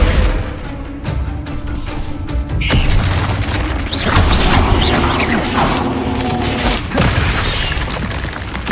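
Spell effects for Accio and Descendo in Hogwarts Legacy, loud booming magical impacts and crashing, whooshing bursts layered over continuous dense combat noise, with no speech.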